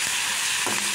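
Green chillies fry in hot oil in a pan, giving a loud, close, continuous sizzle with a brief stirring scrape.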